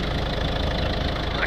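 A Ford Focus 1.6 engine idles close by, a steady low rumble with an even, fast pulsing beat and no voices.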